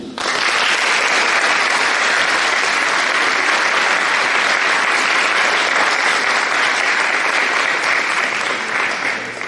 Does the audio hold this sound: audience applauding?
yes